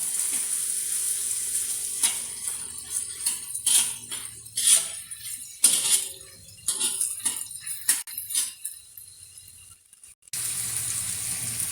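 Fried prawns hiss and sizzle steadily in a pan of masala, with stirring scrapes and bursts of crackling spitting throughout, close and moderately loud, briefly dropping near the end before the sizzle resumes.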